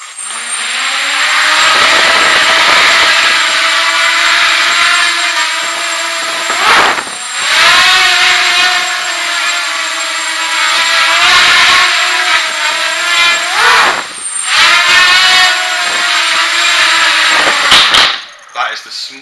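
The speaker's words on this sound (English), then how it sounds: "If I just give you another hover again and try and lift the throttle so you can see." An indoor quadcopter's motors hover with a loud, close, high-pitched whine that swells as the throttle is raised, broken by brief dips in a few spots.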